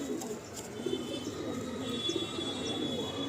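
A Nazra Kaldam pigeon in a home loft coos softly, two or three low throaty coos heard faintly among light background noise and scattered chirps.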